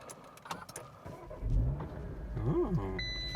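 A sports car's engine is started with a few light clicks, catches with a low rumble, then rises into a sharp rev that swells and falls away before settling into a steady idle.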